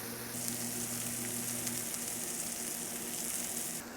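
A ribeye steak sears on a hot griddle with a constant, moderately quiet crackling sizzle, accompanied by a low steady hum from nearby equipment; no speech.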